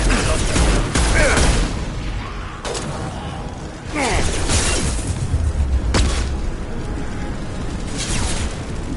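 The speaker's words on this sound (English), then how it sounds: "Firing an impact shot!" Biotic impact shot fired in Mass Effect 2 Legendary Edition combat, a heavy booming burst with a sharp crack that sits in a dense, continuous battle mix of distant blasts and gunfire, with squadmates calling out over the action.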